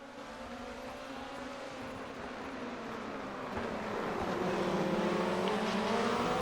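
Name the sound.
rallycross race cars starting heat 1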